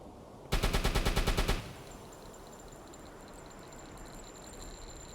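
Machine gun fire from a U-boat's rear guns in a submarine video game, one loud rapid burst of about ten shots lasting a second, then a low steady hum.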